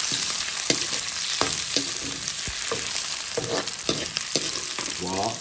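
Shrimp sauté in very hot oil, giving a loud, continuous sizzle broken by repeated clacks and scrapes of tossing in the pan, with a short voice right at the end.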